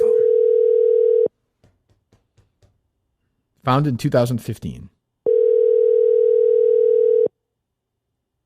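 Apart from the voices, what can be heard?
telephone ringing tone while calling a business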